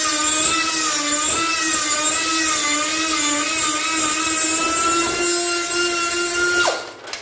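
Power grinder cutting off a bolt head on a 1976 Ford Bronco, a loud, steady high-pitched whine held for several seconds before spinning down abruptly at the end, heard close up.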